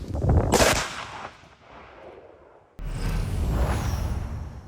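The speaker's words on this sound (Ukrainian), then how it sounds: "Увага, вибух!" A controlled detonation of a damaged explosive device: a sudden loud blast booms and rolls away into a fading rumble, followed by a cut to another sustained low roar.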